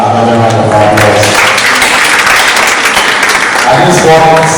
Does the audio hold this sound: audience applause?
yes